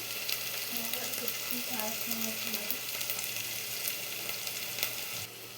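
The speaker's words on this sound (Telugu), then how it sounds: "ఈ ఉల్లిపాయలు బాగా వేగుతున్నప్పుడు" Onions frying in a pan for gongura chicken give a steady close sizzle throughout, with faint stirring and a low hum beneath, no voices over it.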